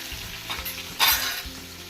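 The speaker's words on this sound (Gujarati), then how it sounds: "હવે આપણે એમાં ગ્રીન ચીલી મરચું નાખીશું, લીલા મરચાં અને લીમડો. ચાલો હવે થોડોક સોટે થવા દઈશું." Green chilies and curry leaves sautéing in a pan for sabudana khichdi, a soft steady sizzle with a brief louder burst of spattering midway, close and without voices.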